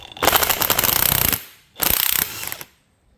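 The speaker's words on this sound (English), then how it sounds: "put a socket on, and this is where you need an impact gun" Impact gun zipping a nut off a BMW M54 VANOS piston, two rapid rattling bursts about a second each with a short gap, close and sharp, no talk.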